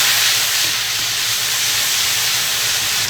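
Bean paste, ginger and garlic stir-frying in hot oil, a steady loud sizzling hiss that runs unbroken and close throughout, with no talking.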